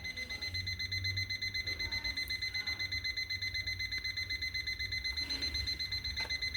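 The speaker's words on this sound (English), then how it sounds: "This is the alarm." A new alarm clock in continuous mode rings a rapid, steady repeating electronic beep, pulsing evenly throughout at moderate level with no voices.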